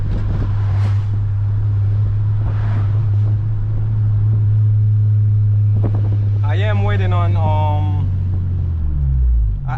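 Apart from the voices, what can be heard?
Honda Civic Si 8th gen engine with VTEC, stock exhaust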